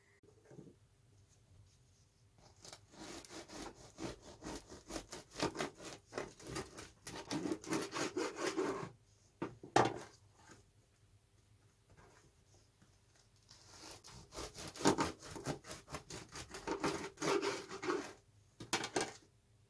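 Wholewheat loaf studded with poppy seeds and raisins being sawn with a knife, close and fairly soft, in two stretches of rapid rasping strokes separated by a short pause.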